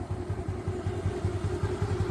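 An old vehicle's engine idles with a steady, rough mechanical chug and rhythmic low pulsing, close and continuous with no talking.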